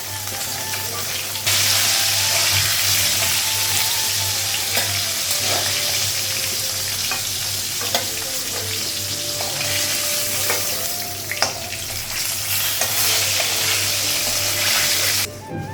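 Fish frying in oil makes a loud, continuous, close sizzle that runs almost throughout, broken by a few utensil clicks and scrapes, with no voices.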